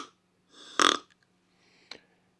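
A handheld squeeze-type deer call imitating a doe gives a short nasal bleat with a buzzy harmonic burst up close, then a fainter trailing note and a brief sharp squeak, with near silence around them.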